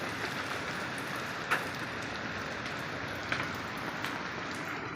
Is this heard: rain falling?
yes